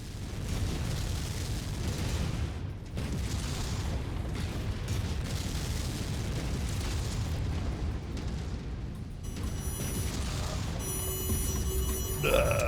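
Missile explosions in the MechWarrior 5 video game, a continuous rumbling barrage of booms and bursts with a bright metallic electronic tone rising near the end.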